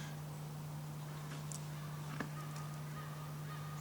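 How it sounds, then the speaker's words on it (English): Birds honking in a quiet Finnish forest, a few faint distant calls over a steady low hum, with no talking. "Just some stupid birds."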